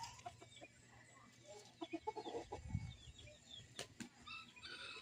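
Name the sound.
chickens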